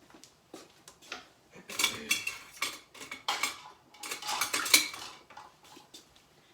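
A metal vegetable smasher and utensils clatter against a skillet of refried beans, with repeated close, bright clinks and scrapes in irregular bursts that grow busier toward the middle.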